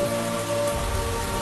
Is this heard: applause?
no